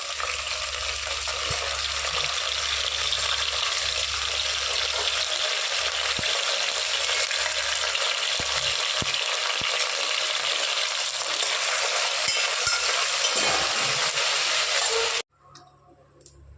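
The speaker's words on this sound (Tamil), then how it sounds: "நம்ம கட் பண்ணி வச்சுருந்த கத்திரிக்காயும் சே சேர்த்து நல்லா ஃப்ரை பண்ணிக்கலாம்" Potato and cut brinjal frying in oil in a pan, a loud continuous sizzle with a few faint clinks of stirring, steady throughout before cutting off abruptly near the end.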